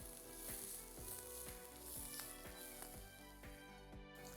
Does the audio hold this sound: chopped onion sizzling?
yes